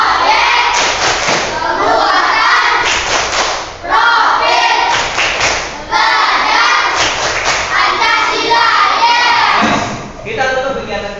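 Elementary schoolchildren in a classroom at SDN 35 Ampenan do a loud group clapping routine, chanting and shouting together with bursts of rhythmic claps and thumps.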